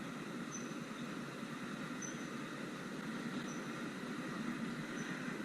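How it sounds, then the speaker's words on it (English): A train passes at night in Sydney, heard as a steady, even rumble and rush that holds for several seconds, with faint high squeaks recurring at intervals and no speech. "Oh, it's a train."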